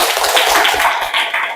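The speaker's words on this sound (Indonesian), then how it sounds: "Ya, tepuk tangan untuk kita semua." A seventh-grade class in a classroom gives a short, brisk burst of dense clapping that lasts under two seconds.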